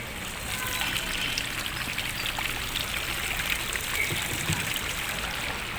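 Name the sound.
water fountain flowing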